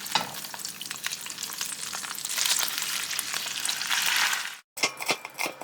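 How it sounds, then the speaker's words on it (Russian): Duck skin sizzling in a pan, pressed flat under parchment, gives a dense continuous crackle and spatter close by, with scraping stir noises near the end after a brief silent break. "Утиную кожу на холодную сковородку."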